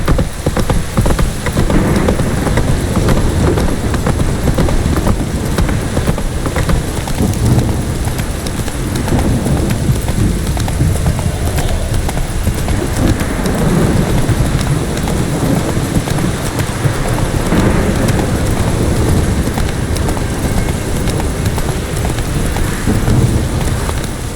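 In The Witcher 3 video game, steady rain hisses continuously, mixed with wind and the ongoing rhythm of horse hooves galloping underneath.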